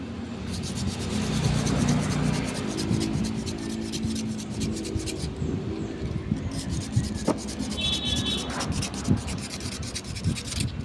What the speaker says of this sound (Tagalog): lihain lang muna para matanggal yung gas